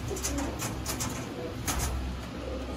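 Pigeons cooing in soft repeated low murmurs, several birds close by, steady throughout against a busy background with faint chirps.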